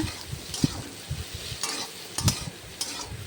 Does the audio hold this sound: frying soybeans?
yes